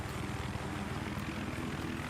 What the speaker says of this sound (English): Oh, the helicopter's up.